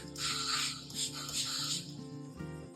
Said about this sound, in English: So I'm going to spray the bottom of the udder